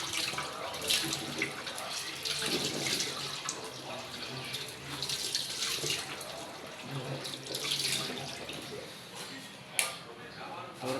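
Tap water runs steadily into a sink during face washing, a constant close splashing with a few sharper splashes, while a person talks over it.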